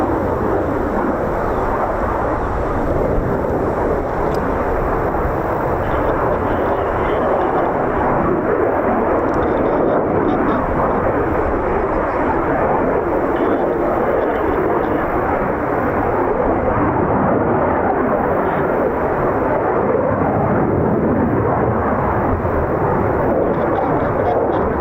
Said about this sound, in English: Vertical landing, they're doing a VL.